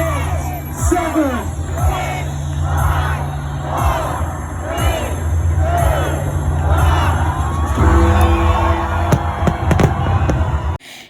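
Crowds cheer and shout continuously as New Year fireworks go off over London at midnight. Loud bursts and crackles repeat every second or so through the dense, roaring crowd noise.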